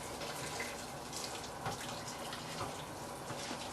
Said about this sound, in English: Always add hot water.